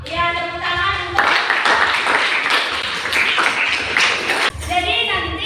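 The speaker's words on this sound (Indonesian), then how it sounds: "Ya, tepuk tangan untuk." Students in a classroom clap together after a group finishes presenting its discussion, a dense burst of hand claps lasting a few seconds, with voices talking before and after it.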